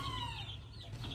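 Easter egger hens on a farm give soft, faint clucks and a drawn-out call in the morning, against a steady low background hum.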